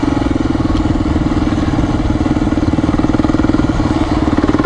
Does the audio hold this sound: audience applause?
no